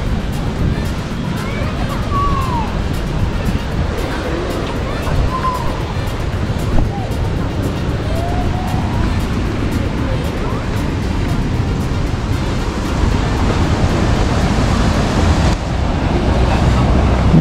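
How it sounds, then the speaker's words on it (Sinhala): Water gushing from a leak in the Samanala reservoir dam, a constant loud roaring rush like heavy surf that fills the whole scene, with wind buffeting the microphone and occasional faint voices beneath. "මේ තියෙන්නේ සමල බණ්ඩේක ලීක් එකකින් එන වතුර පාර"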